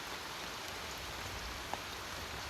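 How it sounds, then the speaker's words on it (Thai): Heavy rain pouring steadily at night on an abandoned farm hut, a dense continuous hiss with one faint tap, no voices. "ตอนนี้นี่ฝนตกบ่แห้งแต่ว่าตกตลอดเวลา"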